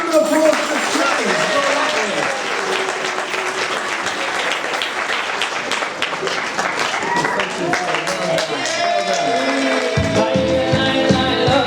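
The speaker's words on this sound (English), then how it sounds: "I think he deserves a big round of applause for trying" An audience at a Chanukah magic show claps for a young volunteer in a continuous round of applause, with voices and music mixed in and an abrupt change of sound near the end.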